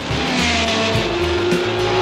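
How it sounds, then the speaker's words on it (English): Porsche 917 sports racing car, the model that gave Porsche its first Le Mans win, roaring loudly and continuously with a rising and falling engine drone and a hint of tire squeal. "It set new standards for Porsche worldwide, the Porsche 917."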